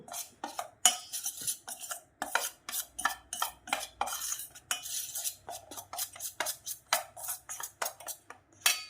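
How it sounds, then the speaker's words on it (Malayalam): Chili powder being mixed into sliced bitter gourd for chips, heard as a quick run of sharp spoon-on-bowl clinks and scrapes in a steady rhythm, close up and alone without speech. "മുളക് പൊടി നന്നായിട്ടൊന്ന് മിക്സ് ചെയ്യുന്നു"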